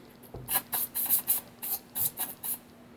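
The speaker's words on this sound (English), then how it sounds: "This is brake cleaner." Brake cleaner sprayed onto a Keihin carburetor during teardown, heard close as about nine short, sharp hissing bursts in a quick, uneven rhythm over a faint steady hum.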